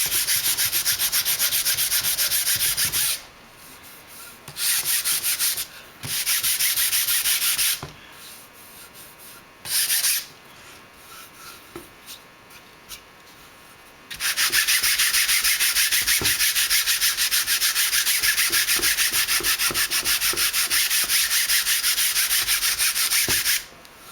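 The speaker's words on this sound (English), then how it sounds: "take flat sandpaper and sand it a little bit." Flat sandpaper rubbed over a composite tail part for a model plane in steady back-and-forth strokes, a close, loud scratchy rasp coming in several bursts with short pauses, then a long continuous stretch of sanding and no talking.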